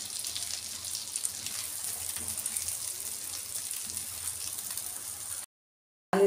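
Potatoes fry in a pan of oil, giving a steady, even sizzle and crackle that runs unbroken for several seconds, then cuts out briefly before returning.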